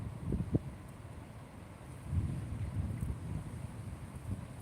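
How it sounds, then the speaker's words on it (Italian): Strong wind rumbles and buffets against the microphone in gusty waves, a low roaring rush with no one speaking. "Qua ci sta un vento esagerato e ancora non piove fortunatamente"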